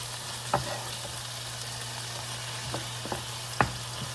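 Shrimp mixture frying in a pan with a steady low sizzle, broken by a few sharp scrapes and knocks as it is stirred, close and fairly quiet, no talking.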